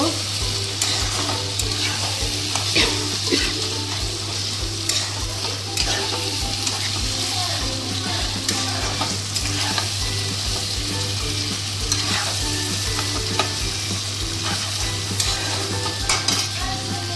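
Liver curry sautéing in oil in a pan, a steady close sizzle with repeated scraping stirs of a spoon or spatula against the pan, continuous and fairly loud throughout, with no voices.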